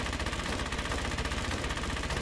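An MG42 machine gun fires in a Battlefield video game, a dense continuous burst of rapid shots that fills the clip, loud and steady with no talking over it.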